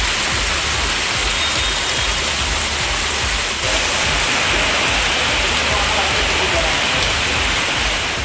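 Heavy rain pouring down in Yercaud, Salem district, making a dense, continuous hiss of water that stays loud and unbroken throughout, with no voices.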